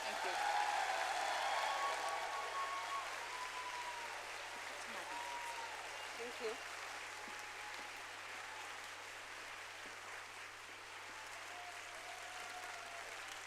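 Conference audience applause, a sustained crowd clapping that holds at a moderate, slightly distant level for over ten seconds with faint voices over it.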